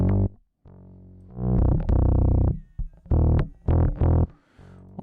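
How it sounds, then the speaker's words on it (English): Music mix processed with an old tape-style distortion effect, saturated tonal bursts and chords starting and stopping in choppy phrases with short gaps, loud and close with no talking. "this is more distortion, but this is a tape style distortion"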